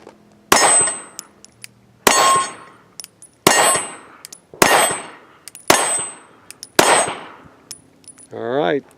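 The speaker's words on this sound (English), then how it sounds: "here's Luke taking the first shots with the new Glock 43" Six sharp, loud shots from a Glock 43 pistol firing 115 grain ball ammunition at a range, evenly spaced about a second apart, each ringing briefly before fading, followed by a short warbling tone.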